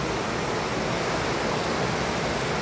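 Rushing mountain stream far below a suspension bridge in the Békás Gorge, a steady broadband roar of water without pause, loud and continuous.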